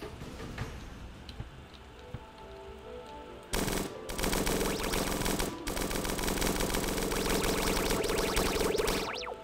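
Sustained automatic gunfire in the video game Starbound, a dense rapid stream of shots that bursts in loudly after a quieter stretch and continues with a brief break.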